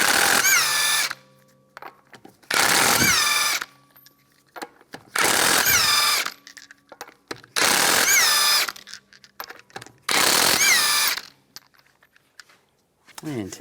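A power tool fitted with a 19mm socket removes the wheel of a 2015-2019 Lincoln MKC in five loud, close bursts of about a second each, with the pitch sweeping during each run and short quiet gaps between them.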